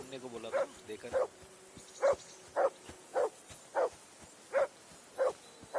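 Repeated sharp barking from a dog in Kingdom Come: Deliverance II, about nine close, loud barks at a regular pace over a quiet game background.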